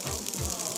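Water gushing steadily into a cooking pot for eggplant and bulgur stew, a brief close continuous pour at moderate level with no talk.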